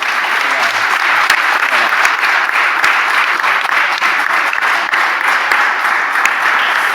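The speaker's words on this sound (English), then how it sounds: "So a massive round of applause for all of our speakers" Conference audience at the European Lab Brussels 2019 event applauding its speakers, a sustained, dense wash of clapping from a large crowd that stays loud and steady throughout with no break.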